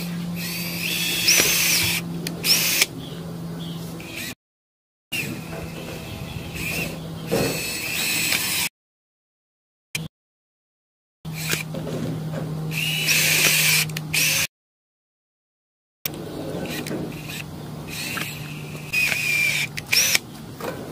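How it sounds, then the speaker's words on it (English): A power drill runs in repeated short bursts as a bit bores holes for a 10ft Christmas star, its whirring separated by brief pauses and full silences. "now I'm going to go to the other end and drill holes with my drill bit in the other side"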